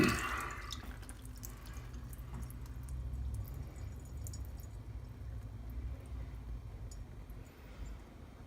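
Cold tap water running steadily from a faucet at home, a soft continuous splash and trickle at low volume with no talking.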